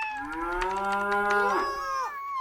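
A single long, drawn-out moo from children imitating a cow at a storytime, loud and close, with a falling pitch at the end.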